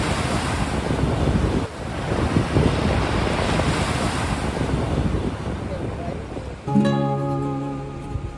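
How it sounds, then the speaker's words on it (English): Ocean surf rolls steadily onto a beach at Varkala in Kerala, a broad continuous wash of breaking waves with wind buffeting the microphone, and a brief dip before a louder rush near the end. "So here we are in a beautiful beach city in the state of Kerala."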